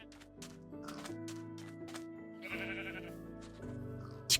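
Sheep bleating in a video game, a string of wavering, tonal cries following one after another over soft clicks, with a short bright sound at the very end.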